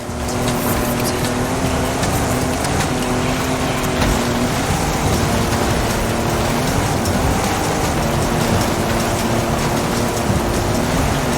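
Heavy storm rain pours steadily in Forza Horizon 5, a loud, unbroken hiss with a car engine droning beneath it and low rumbles of thunder mixed in.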